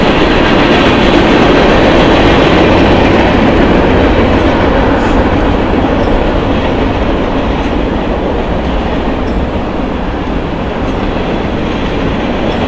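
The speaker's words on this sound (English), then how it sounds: "Longest train ever." A long freight train rolls past nearby, a loud continuous rumble and rattle of wagons that barely changes for the whole stretch, with no voices.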